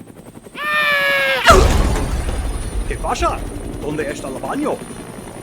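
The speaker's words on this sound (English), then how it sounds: "Watch softly through yonder window breaks, for it is a helicopter" A helicopter in the game Dead Rising Deluxe Remaster whines up briefly, then gives way to a loud rotor-and-impact roar that fades into a rumble while characters talk over it.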